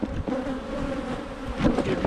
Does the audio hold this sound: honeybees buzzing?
yes